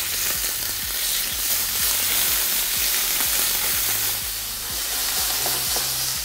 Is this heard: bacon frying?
yes